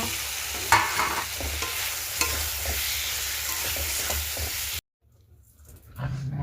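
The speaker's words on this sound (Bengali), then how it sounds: "চলো মশলাটা আমি একটু কষি হয়ে গেছে মশলা কষা" Spice paste frying in a pan while being stirred, a close sizzle with scraping strokes for about five seconds, then a sudden drop to near silence and a faint return of sound.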